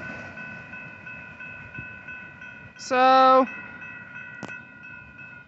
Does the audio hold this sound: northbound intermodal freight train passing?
yes